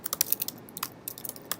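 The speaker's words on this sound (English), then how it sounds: "Alex, you just asked me to type." Typing on a computer keyboard, a quick run of crisp, close key clicks in uneven bursts with a short pause midway, heard alone without speech.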